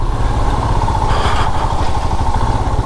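A motorcycle engine drones continuously while riding on a rough, waterlogged road trip from Agra to Karnal, a loud, steady throb close to the listener with a brief rise in the middle.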